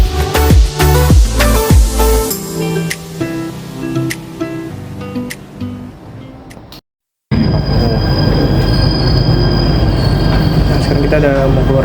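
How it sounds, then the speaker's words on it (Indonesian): A Jakarta MRT train runs loudly along the track, wheels squealing in piercing, sustained tones with rumbling, then a brief dropout before a steady roaring rush of travel noise. "Kita udah mau keluar dari MRT-nya nih."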